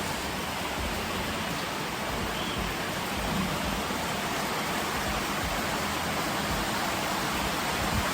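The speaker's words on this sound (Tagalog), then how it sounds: "Grabe, umuulan na dito guys." Heavy rain pours down steadily, a dense, loud and unbroken hiss that lasts throughout with no voices.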